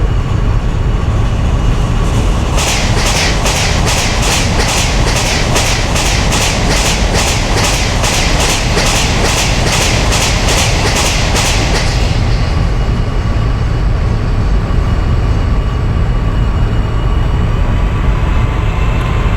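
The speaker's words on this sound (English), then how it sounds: "Yes, one more train is coming on the opposite track. It's a train number 12903 Golden Temple Mail Express." An express mail train passes on the opposite track, heard from inside a moving train: rapid, evenly spaced clicks of wheels over rail joints ring out loudly for about ten seconds over a constant heavy rumble that continues after the passing train clears.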